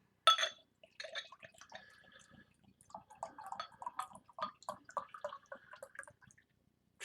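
Homebrewed white IPA beer is poured into a glass, heard up close as soft, faint trickling, splashing and fizzing that comes in irregular bursts after a brief initial splash, with no talking.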